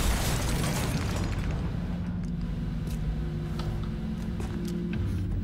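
A rocket explosion in X-Com: Enemy Within: a loud blast at the start decays into a rumbling tail and a steady low hum, with no voices.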